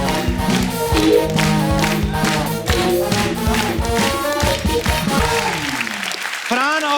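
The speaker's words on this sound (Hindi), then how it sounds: "एक बार फरहान और प्रियंका के लिए जोरदार तालियां" A studio audience on the Kapil Sharma Show claps loudly for Farhan and Priyanka, steady applause mixed with lively music and cheering voices. The applause drops off briefly near the end before rising again.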